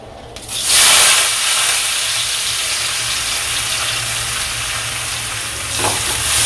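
Whole cardamom, cinnamon and cloves hit hot oil with a sudden loud burst of frying, then settle into a strong, continuous hiss and sizzle close up, briefly swelling again near the end.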